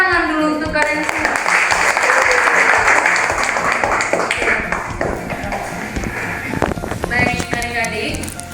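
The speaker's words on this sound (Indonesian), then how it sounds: "Tepuk tangan dulu untuk kalian semua." Primary school pupils clapping in a classroom, a steady brisk round of applause with voices and shuffling mixed in, close and fairly loud, with the talk picking up toward the end.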